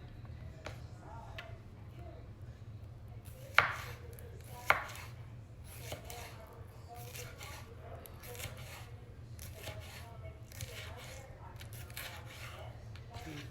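A knife taps against a cutting board in quiet, irregular chops, a few sharper knocks among them, over a low steady hum with soft speech in the background.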